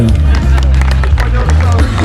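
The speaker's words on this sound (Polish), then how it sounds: "Brawa, brawa, brawa." Crowd clapping at a motorcycle rally costume contest in Łeba, loud and close with a steady dense patter over a low rumble, mixed with crowd babble and shouting voices.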